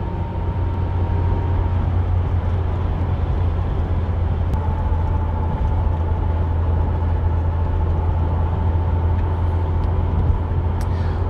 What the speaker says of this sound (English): the car's really picking up speed very, very nicely as we overtake that lorry that held us up